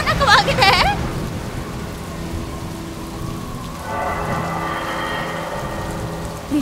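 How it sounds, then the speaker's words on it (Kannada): Heavy rain pouring steadily in a storm, a dense, loud wash of drops with brief bright chirps at the start and no pause throughout. "ಈ ಮಳೆ ತುಂಬಾನೇ ಭಯಾನಕವಾಗಿದೆ."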